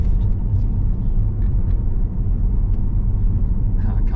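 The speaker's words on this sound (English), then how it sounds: "I can't tell with your car, its engine is so smooth." A smooth car engine hums steadily while driving on a rural road, a low, even road-and-engine rumble with no distinct revving, loud and continuous under faint background talk.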